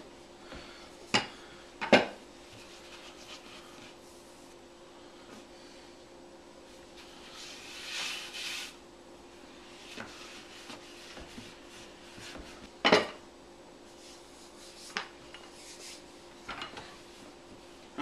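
Butter pie crust dough rolled out on a work surface, making soft rubbing and scraping strokes with a few sharper knocks and clicks spaced irregularly, quiet and close, with no talking.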